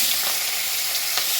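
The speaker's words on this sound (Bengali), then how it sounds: "এখন মাছগুলি একে একে তেলে ছেড়ে দেবো" Turmeric and salt coated fish frying in hot oil gives a loud, dense, continuous hiss and crackle up close, with a couple of sharper pops and no voices.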